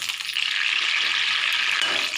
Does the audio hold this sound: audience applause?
no